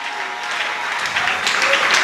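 A church congregation at a Sunday service applauding and cheering, dense loud clapping that swells slightly over two seconds with shouts mixed in.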